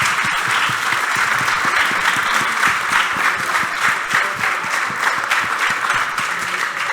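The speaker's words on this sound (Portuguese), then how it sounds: "eu pedi-lhes uma salva de palmas" An audience at a debate held at the Fólio literary festival gives a sustained round of applause. Individual hand claps are distinct within a loud, even crowd patter that carries on without a break.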